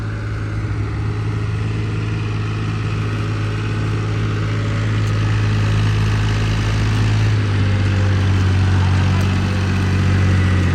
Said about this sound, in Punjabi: ਖਾਲੀ ਟਰਾਲੀ ਲੈ ਕੇ ਨਹੀਂ ਦੌੜਦਾ ਟਰੈਕਟਰ